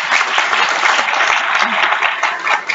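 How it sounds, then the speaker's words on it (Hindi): A crowd at a youth parliament event in Ghaziabad, India, claps continuously and enthusiastically for a few seconds, a dense, close round of applause without pause. "अपने लिए जोरदार तालियां हो जाए"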